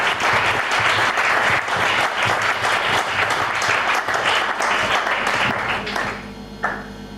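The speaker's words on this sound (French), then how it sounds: "Est-ce qu'on peut acclamer pour Jésus?" A congregation applauding for Jesus during a Sunday Christian church service: loud, sustained clapping from a large crowd that fades toward the end, with a voice faintly over it.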